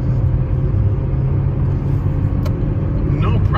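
A 2015 Chevrolet Cruze speeds up on the road, its engine and tire rumble heard from inside as a constant loud low drone, with a brief click near the end.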